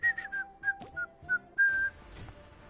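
A person whistles a short melodic tune alone, clear and close, with several separate notes and a longer held note near the end.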